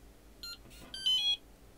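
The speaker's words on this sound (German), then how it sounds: "Jetzt piepst das Schloss," A WELOCK ToucA51 smart lock with fingerprint reader and keypad beeps after its batteries are inserted: a short double electronic beep, then a longer, louder chirp sequence, close and clear in a quiet room.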